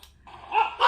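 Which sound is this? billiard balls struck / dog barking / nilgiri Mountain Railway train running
dog barking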